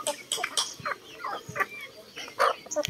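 Several young chicks in a pullet pen, bursts of close chirping and clucking with brief pauses and a little rustling.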